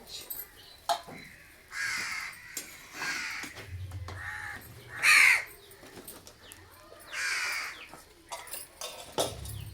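Crows caw repeatedly outdoors near a home kitchen, several harsh calls spaced across the stretch, some loud and close, others fainter, with light background noise.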